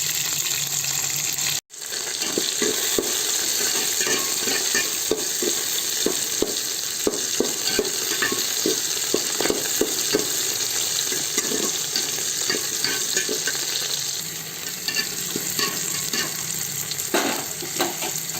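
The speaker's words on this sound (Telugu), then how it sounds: "ఈ ఎర్రగడ్డలు, తెల్లగడ్డలు, పచ్చిమిరపకాయ వేసి బాగా ఒక 2 నిమిషాల పాటు వేగనివ్వాలి." Onions, garlic and green chillies fry in a pan, a continuous close sizzle with frequent crackles and stirring scrapes after a short knock near the start, easing slightly toward the end.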